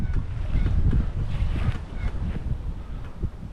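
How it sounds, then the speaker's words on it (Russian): Strong wind buffeting the microphone on the Msta river while rafting, a steady low roar and rumble with gusty surges and some water noise, loud and close throughout with no talk. "Ветер дует, что волна стоит."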